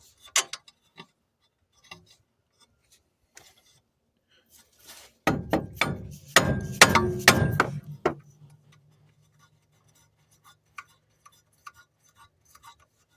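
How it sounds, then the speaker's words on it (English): A burst of sharp metallic hammer blows on a Toyota Tercel wagon 4WD half shaft rings out in quick succession, with a few scattered taps and clinks before and after in a quiet workshop. "I'm gonna use the hammer, which you got to do"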